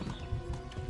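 Horse hooves clip-clopping at a gallop in the medieval video game Kingdom Come, a steady rapid pounding rhythm under a busy, dense game soundscape.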